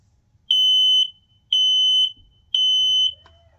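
A battery-powered smoke alarm installed in an attic sounds three piercing beeps in a steady rhythm, loud and near, with faint low rumbling and a brief scrape at the end.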